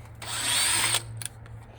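A power drill backs out rusted screws on a furnace inducer motor assembly, one close whirring burst of about a second, then a short click and a quieter follow-up whir.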